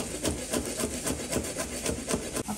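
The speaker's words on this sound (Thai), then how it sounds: "จะมาหั่นผักก่อนเลยนะคะ" Sawtooth coriander chopped with a knife on a wooden board, a quick run of rhythmic, close, dry chops repeating about four to five times per second.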